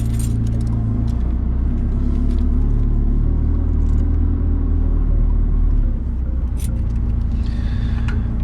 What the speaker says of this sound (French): la 600 LT fait quand même un bruit sympa, mais c'est plutôt en roulant